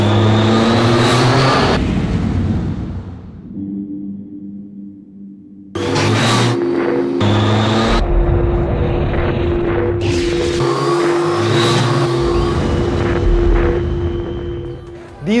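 A Triumph Street Triple RS motorcycle engine revs loudly and close, with sustained roaring bursts and steady engine drone broken by brief drops and surges.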